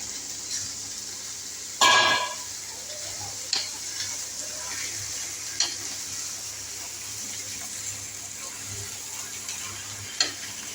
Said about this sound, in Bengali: মাটনটা আমি আলুর সঙ্গে পেঁয়াজের সঙ্গে অ্যাড করে দিচ্ছি। এবার পুরো ব্যাপারটাকে এবার আমি ভালো করে ভেজে ভেজে কষিয়ে নেব।